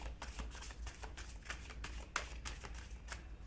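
Tarot cards being shuffled in quick, repeated riffling bursts of crisp papery rustles and flicks, close and fairly quiet, with no voices over them.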